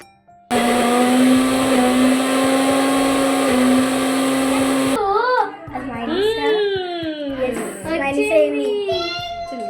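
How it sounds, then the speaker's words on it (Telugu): A home mixer grinder whirs loudly and steadily as it grinds pepper, garlic and salt with water, then cuts out as a small child cries and whimpers nearby. "కొన్ని వాటర్ వేసుకొని ఇంకా మిక్సీ పట్టుకోవడమే"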